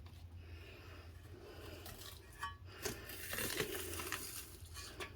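Onions are fed into a meat grinder and give a faint, low crunching and squelching that builds in the middle, set against a quiet background hum.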